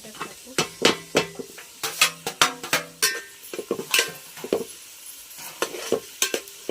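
Onion and chilli cook in a pan while a spoon scrapes and clanks against the metal in quick, irregular strokes, loud and close over a faint sizzle, with no talk.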